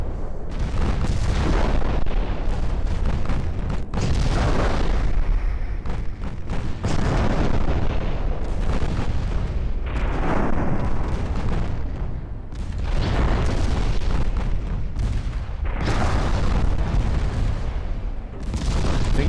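Shells strike and ships explode in a naval battle game with Spanish dreadnoughts, a dense, continuous roar of heavy booms and blasts rolling in waves, loud and close throughout.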